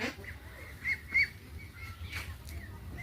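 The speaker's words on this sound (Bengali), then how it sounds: "দেখতে পাচ্ছেন হাঁসগুলো বেশ বড় হয়েছে।" Ducks on a duck farm in Bangladesh, resting at midday, give a few short honking quacks at a moderate distance over a quiet background.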